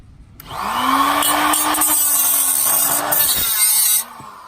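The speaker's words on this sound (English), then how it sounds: "we've resorted to a cutoff wheel or an angle grinder" A cutoff wheel or angle grinder bites into aftermarket exhaust headers on a Subaru FRS in a home garage, starting abruptly, giving a loud sustained whining grind with a steady pitch for about three and a half seconds, then stopping.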